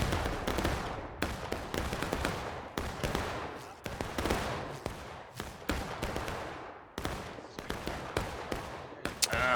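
Musket volleys fired file by file in the Civil War game War of Rights at Pry House, a 260-player battle: a steady run of sharp, loud cracks with short gaps, overlapping into a rolling fusillade with no pauses.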